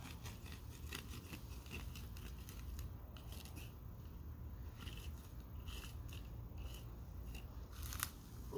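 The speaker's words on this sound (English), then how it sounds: "I'll cut just a little more root off." Scissors snipping plant roots while a houseplant is repotted, a series of small faint crisp cuts and crunches spread over a quiet background, without talk.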